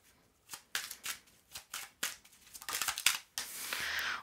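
Tarot cards drawn and handled close up, a sequence of short, sharp papery slides and flicks in uneven rhythm, fairly quiet and without speech.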